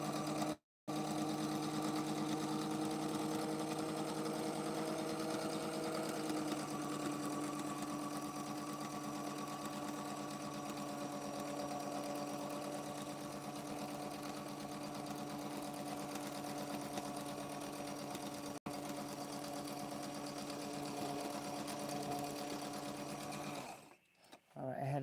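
A sewing machine stitches fabric doll parts in a long continuous whir, the motor running steadily with a brief stop near the start and at the end.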